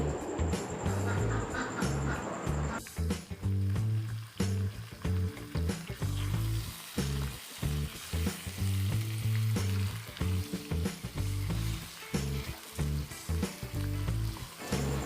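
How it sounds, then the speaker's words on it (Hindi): Chicken frying in a pan for biryani: a loud, continuous oily sizzle with rhythmic stirring and clattering throughout, close up and without talk. "एक से 2 मिनट के लिए चिकन को भी फ्राई करेंगे।"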